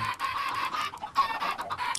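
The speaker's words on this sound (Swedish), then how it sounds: "Jag måste döda av lite kycklingar." A crowd of Minecraft FTB chickens clucks in quick, overlapping bursts, close and fairly loud, with no voices over them.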